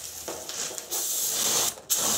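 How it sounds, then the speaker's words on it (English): Brake cleaner sprays onto a Subaru 2.5L engine on a stand in steady hissing bursts, a short pause breaking the spray, close and fairly quiet. "I'm going to spray brake clean and then compressed air."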